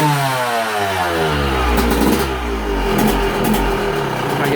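A two-stroke dirt bike engine with V-Force reed pedals revs up and drops back in waves, its rising and falling pitch loud and close, settling toward a raw idle.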